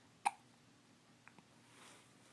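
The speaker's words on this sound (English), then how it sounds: "Go away, hiccups." A single sharp infant hiccup rings out near the start, followed by a couple of faint softer catches, with quiet room ambience and no talk.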